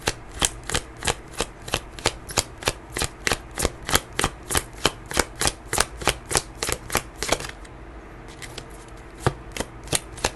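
A deck of tarot cards being shuffled up close: a brisk, even rhythm of crisp slapping riffles repeating dozens of times, slackening briefly before picking up again.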